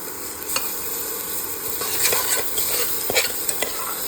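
Turmeric and chilli go into a sizzling pan, with a steady hiss of hot oil and several light scraping stirs and taps, close-up, with no voices.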